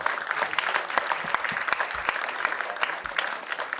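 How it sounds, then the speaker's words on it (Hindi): A crowd at a Bollywood film trailer launch event for Durlabh Prasad Ki Dusri Shadi bursts into vigorous applause, a dense, continuous clatter of many hands with sharp individual claps standing out. "जोरदार तालियां हो जाए"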